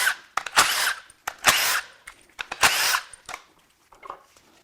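A power tool unbolts the oil pump on a recalled GM L87 6.2L engine, close and loud in short whirring bursts with ratcheting clicks between pauses, then fainter taps at the end.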